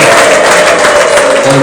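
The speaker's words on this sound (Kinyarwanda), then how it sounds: "tugukomera amashyi menshi n'ibindi" A church congregation applauds together in one steady, loud burst of clapping that fills the space without pause, with a faint sustained tone running beneath it.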